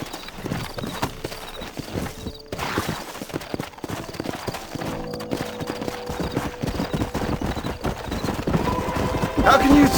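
Horse hooves clip-clop steadily and close by in the Red Dead Redemption western game, mixed with a whinny, game music and talking voices.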